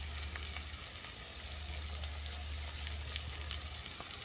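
Spices are sautéed with potato and pumpkin in a pan, a steady close sizzle with a low hum beneath and occasional light scrapes, no voices.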